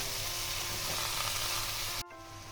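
Pumpkin greens fry with salt in a pan, producing a soft, continuous sizzle with faint stirring underneath that cuts off abruptly near the end; quiet and close, with no talking.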